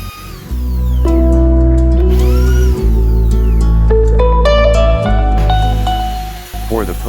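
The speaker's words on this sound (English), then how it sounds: "And drilling 10mm hole for the feather post." A power drill bores a 10mm hole in wood for a tissue holder's post, giving a loud, steady motor whine that shifts pitch several times over about six seconds before spinning down.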